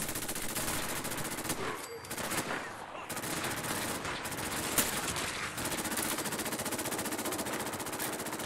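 Sustained automatic gunfire in the video game Fallout 4, dense rapid bursts running loud and continuous throughout with a couple of brief gaps, no talk over it.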